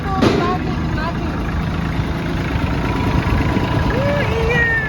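A Kubota tractor engine runs steadily at close range, a continuous low rumble held at an even level throughout with a faint voice briefly over it.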